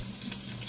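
Garlic and onion fry in oil with a little olive oil and buttercream, a brief, steady, close sizzle heard on its own.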